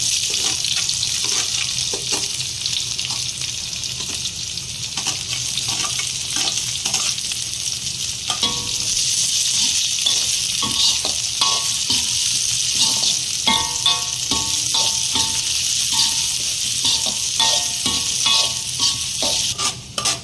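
Onions sautéing in hot oil in a pan while making a karunai kizhangu (elephant foot yam) masiyal, a loud continuous sizzle with repeated scraping and stirring clatter throughout.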